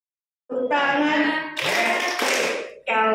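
Hands clap in time with a children's action song sung by a group at a myasthenia gravis gathering in Yogyakarta, loud close claps falling between bursts of singing voices.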